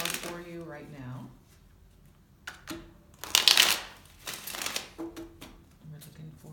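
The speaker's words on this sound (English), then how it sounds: "I have pre-shuffled and then I'm going to shuffle a bit more for you right now." A wide tarot deck shuffled by hand, with crisp bursts of riffling and card slaps at close range between stretches of a woman's speech.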